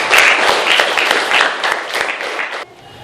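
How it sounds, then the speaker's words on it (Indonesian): Students in a classroom applaud together after a group presentation, a dense, steady burst of many hands clapping close by for about two and a half seconds before cutting off abruptly. "Mari kita berikan aplaus sama-sama ya"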